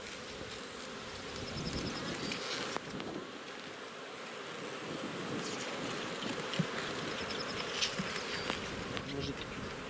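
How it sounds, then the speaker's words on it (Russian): Dense, steady buzzing of many honeybees close by, continuous throughout with light wind noise and a few soft knocks. "О, пчелы много"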